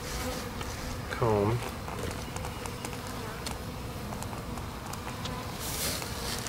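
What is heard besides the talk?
honey bees buzzing during package installation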